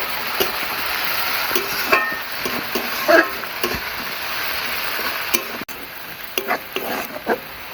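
Ginger garlic paste sizzling in a pan with fried onions while a spoon stirs, a steady frying hiss with repeated scraping taps of the spoon against the pan.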